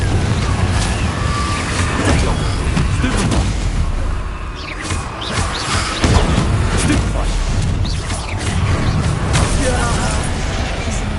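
A Confringo blasting spell in a Harry Potter video game erupts into a sustained, loud, rumbling explosion that roils on for several seconds amid dense crackling and game noise.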